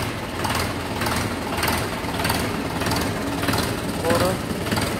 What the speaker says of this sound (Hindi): दोस्तों आप देख सकते हैं ट्रैक्टर ओरिजिनल हंटिंग ले रहा है, अपनी जो कंपनी की आवाज़ होती है।